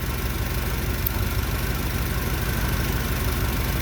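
A 1978 Camaro V8 fitted with Sniper fuel injection idles steadily, a loud, close, even rumble with a faint rhythmic pulse and no talking over it.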